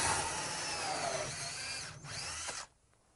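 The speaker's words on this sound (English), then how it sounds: "this is a preformed fiberglass duct, easy to drill through" A power drill bores through a preformed fiberglass duct during a duct installation, a loud steady whine for about two and a half seconds before cutting off abruptly, with no talk.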